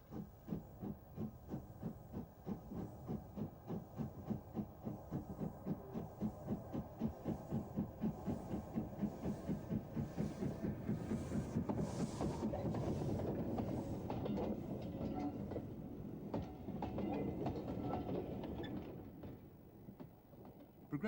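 Jinty steam tank locomotive pulling away eastbound from Swanage Junction, its rhythmic chuffing exhausts pulsing steadily and gradually quickening, joined by hissing steam and a low rumble, moderately distant, with no talk.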